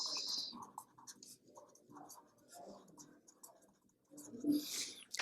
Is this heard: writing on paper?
yes